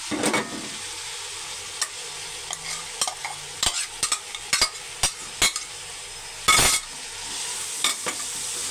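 Macaroni is stirred in a hot pan, giving a steady sizzle broken by repeated sharp scrapes and clinks of a spoon against the metal, loud and close, with no voices.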